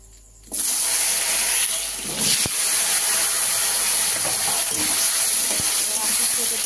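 Taro stems and potatoes go into hot oil already used for frying fish and tempered with whole cumin seeds, setting off a sudden loud hiss that holds as a steady, close sizzle.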